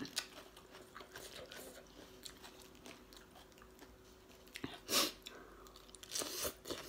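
Faint, close-up crunchy chewing of spicy papaya salad mixed with rice noodles, with scattered bites and moist crunches and a louder crunch near the end.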